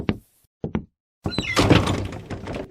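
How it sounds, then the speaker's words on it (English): A door closes as a sound effect in a live radio theater performance of the western drama Gunsmoke: a few short wooden clunks, then a heavier thud and rattling clatter that fades, with no voices over it. "Chester, close the door"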